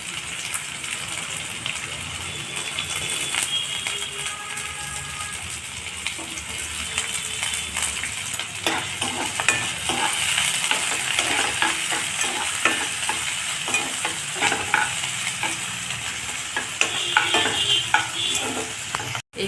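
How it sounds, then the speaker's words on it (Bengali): Chopped onion, garlic, ginger and green chilli sizzle steadily in a pan while being stirred, with scraping stirs and crackling spread evenly through the clip at close range, no talking, for a winter vegetable roll filling. "পেঁয়াজ রসুন লঙ্কাটা এই আধা ভাজা করে লাল ভাজা একটু ভাজা"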